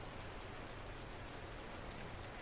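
Steady rain in the Farming Simulator 19 game, a dense even hiss of falling drops with no breaks or other sounds.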